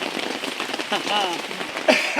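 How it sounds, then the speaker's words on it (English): Rain falls on a surface outdoors, a steady hissing patter that runs the whole time beneath people talking. "I think the rain is beating the fog down."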